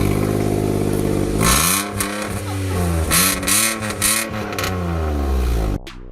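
A small car's Toyota-designed 1-litre VVT-i petrol engine revs up and down repeatedly, its pitch rising and falling, loud and close, before cutting off near the end.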